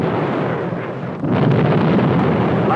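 Explosions from flat-nosed bombs in a 1963 tactical weapons test, a loud continuous roaring rumble that swells and grows heavier partway through, with a wind-like blast texture throughout.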